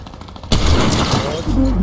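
Gunfire in the Fortnite video game during a Bed Wars match: a dense burst of shots cuts in abruptly about halfway through and continues loud to the end, with a player's voice around it.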